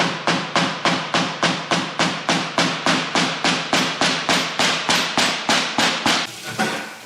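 A steady series of sharp hammer taps seating a rear main seal on a Toyota 2JZ engine, roughly three per second, close and loud, continuing evenly for several seconds.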